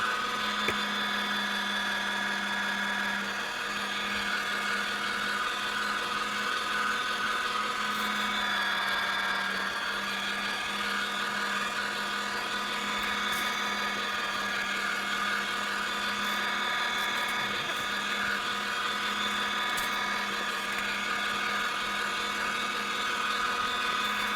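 A meat grinder runs continuously while grinding cubed meat for bratwurst, a steady motor hum and whine that holds unbroken and fairly loud throughout.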